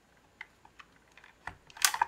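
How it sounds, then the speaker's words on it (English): Keys on a full-size Logitech computer keyboard are struck in a short, sparse sequence of faint clicks, ending in a louder cluster of quick taps near the finish. "this is my full-size Logitech keyboard"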